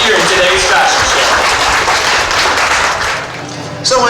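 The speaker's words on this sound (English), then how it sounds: "let's give Frank a warm round of applause for so graciously making time" Audience applause at a WWII-era weekend fashion show: a steady wash of clapping across the whole stretch, thinning briefly near the end, with talk mixed in.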